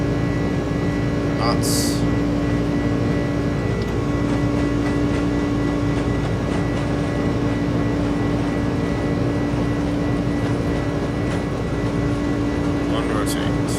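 Airbus A300-600 jet engines run at takeoff thrust in a flight simulator, a dense, steady roar with a sustained hum, continuous under a man's calm cockpit callouts.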